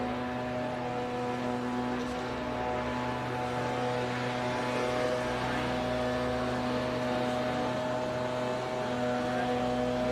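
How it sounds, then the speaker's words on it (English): Blowers run at a drag strip at Houston Raceway Park, a loud, steady mechanical hum with constant tonal whine and broadband rush, unchanging for the whole stretch. "Can y'all hear the blowers on stream"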